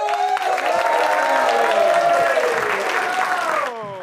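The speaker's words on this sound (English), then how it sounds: "A big round of applause." A comedy show audience claps and cheers loudly for a comedian coming on stage, with tonal sounds over the crowd. The sustained ovation fades sharply just before the end.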